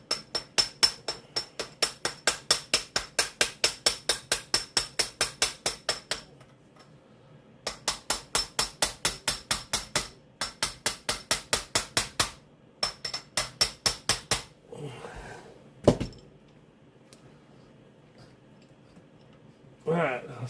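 A part being driven on with a rubber mallet in a workshop: long runs of rapid, evenly spaced close taps in several bursts with short pauses, then a couple of heavier single knocks near the end.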